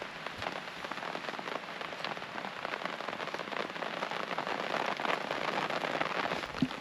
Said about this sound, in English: This rain is absolutely pelting it down